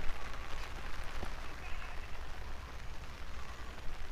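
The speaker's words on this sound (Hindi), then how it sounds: "दोस्तों अभी फिर से बारिश स्टार्ट हो गया है" Steady rain falls on a rainy outdoor walk where mangoes are being eaten, a continuous broadband hiss with faint patter throughout, close and even in level, with no clear speech.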